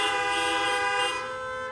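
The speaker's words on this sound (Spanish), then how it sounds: "da un pitazo por Jesús" A horn sounds once in a long, steady, loud blast lasting nearly two seconds, rich in stacked harmonic tones, honked in praise of Jesus during a religious gathering.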